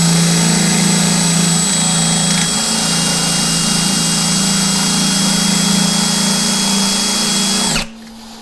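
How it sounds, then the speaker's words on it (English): A power drill bores into a Hornady Night Guard lockbox with a loud, continuous high-pitched whine and grinding, steady for about eight seconds before it suddenly stops and only a faint hum remains. "I'm going to go ahead and break out the drill. I'm going to try to drill this thing out."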